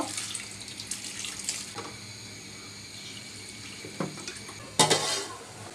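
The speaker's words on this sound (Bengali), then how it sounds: "এবার দিয়ে দিচ্ছি অল্প পানি" A small amount of water is poured into a cooking pot over salted pumpkin pieces to boil them, producing a steady, soft splashing with a few sharp clinks of the pot near the end.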